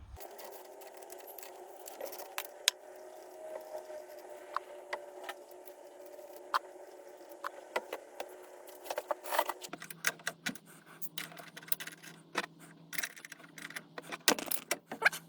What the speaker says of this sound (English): So next we'll finish undoing the wheel nuts and we'll take the wheel off